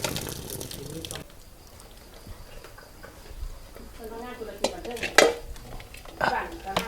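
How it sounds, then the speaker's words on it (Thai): Rice is washed in a pot by hand, with clattering dish and utensil knocks, sloshing scrapes and a few sharper clanks near the end, while people talk throughout. "นี่นะล้างข้าว ล้างข้าวล้างข้าว"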